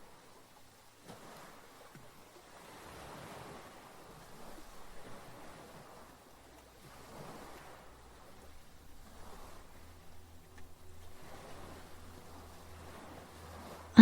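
Gentle waves in a still cavern pool lap softly in slow, irregular swells, a faint hushed wash rising and falling every couple of seconds over a low background hum.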